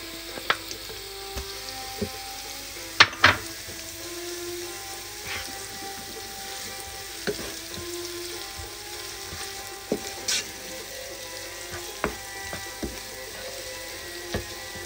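Garlic frying in a pan for a vegetarian pink-sauce spaghetti gives a steady close sizzle, with occasional sharp clicks and scrapes of a utensil against the pan, and no talking.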